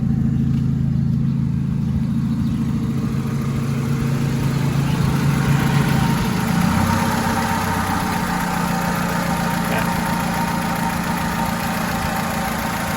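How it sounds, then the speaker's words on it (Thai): A Honda City car engine idles steadily with a low, even rumble, holding a constant drone throughout with no talking. "ลองฟังเสียงเครื่องยนต์ดูนะฮะว่านิ่งๆไหม"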